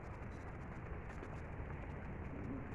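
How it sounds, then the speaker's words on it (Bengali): Heavy rain falls in a dense, steady hiss that stays even for the whole stretch, soft and distant-sounding, with no voices over it. "খুব বৃষ্টি হতেছে বৃষ্টির কারণে মানুষ হাটে বাজারে যেতে পারতেছে না"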